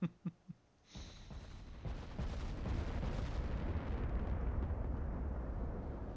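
Battleship main guns fire in Ultimate Admiral: Dreadnoughts, starting with a few sharp close booms, then a broad rumbling roar of heavy gunfire and blasts that rolls on loudly to the end.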